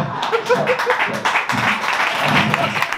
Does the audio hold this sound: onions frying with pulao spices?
no